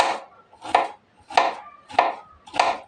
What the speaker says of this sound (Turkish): ince ince kıyıyorum